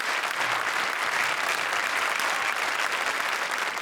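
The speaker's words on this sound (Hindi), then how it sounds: "जोरदार तालियां राजेश और राजीव के लिए" Steady, dense applause from a studio audience at a comedy show taping, continuous and fairly loud throughout with no break or voices.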